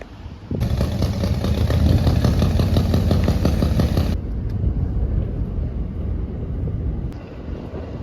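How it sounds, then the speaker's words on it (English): A train rumbles past in rural Australia, a loud, steady, close roar with wind buffeting for about four seconds before easing into a fainter receding rumble. "What you see there is one of the only trains that come through this part of Australia."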